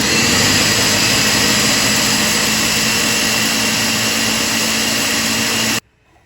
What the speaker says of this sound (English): So we'll blend up the other can in a minute.